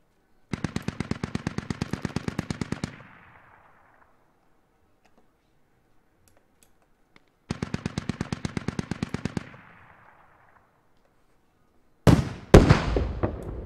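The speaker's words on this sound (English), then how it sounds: "Shots fired on my position." Automatic gunfire in a house-to-house firefight in the shooter game Squad: two long rapid bursts several seconds apart, each trailing off in echo, then sharp louder shots near the end.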